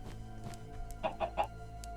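Minecraft chicken clucking in the game, three short soft clucks close together over a steady low background drone.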